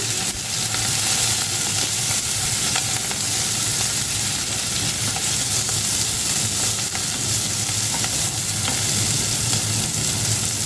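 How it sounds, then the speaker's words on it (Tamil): Onions fry over high heat in a pan with curry leaves and green chillies for a Jaffna-style brinjal and potato curry, giving a loud, dense, continuous sizzle with stirring scrapes mixed in and no talking. "வெங்காயம் கொஞ்சம் ப்ரௌனாக வரைக்கும் பண்ணிங்க"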